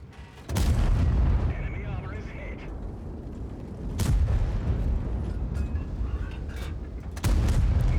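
Heavy tank guns boom in a World of Tanks battle, several sharp blasts spaced a few seconds apart with a rumbling tail, while a player talks over the action.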